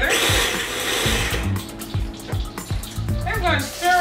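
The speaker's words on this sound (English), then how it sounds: "So I'm just going to blend this all together." A blender whirs as it mixes butter, sugar and salt, a loud motor whine with uneven grinding pulses, while a person talks over it.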